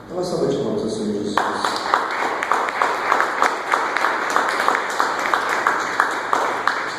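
Applause at a church gathering, brisk rhythmic clapping from a small crowd that starts abruptly after a voice and continues steadily with sharp repeated claps, with speech over it.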